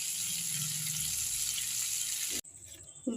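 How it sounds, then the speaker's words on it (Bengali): Bitter gourd fries in a pan with a bright, dense hiss of sizzling oil that holds steady for over two seconds, then cuts out abruptly and leaves only faint noise and a small clatter. "করলা ভাজতে দিলাম"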